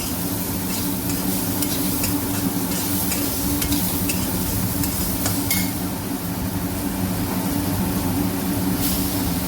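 Food frying in a little oil in a pan while cooking South Indian chutney, a steady close sizzle with stirring scrapes and clatter throughout, no voices.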